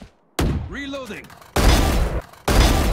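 Loud gunfire in the Valorant shooter game, two dense bursts of rapid shots after a short voiced callout, close and harsh.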